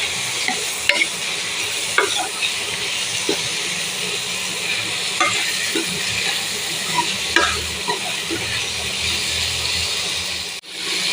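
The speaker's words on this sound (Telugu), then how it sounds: "బాగా మిక్స్ చేసేసుకుందాం." Cauliflower masala curry stirred in a pan with boiled cauliflower pieces, a steady close sizzle of frying under scattered scraping clicks from the spoon, continuous for the whole stretch with no talking.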